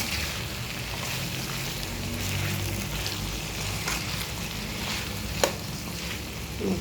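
Bottle gourd curry with tomato simmering in a pan, a steady bubbling sizzle with a few spoon strokes as it is stirred, close and even, one sharper knock near the end, no talking.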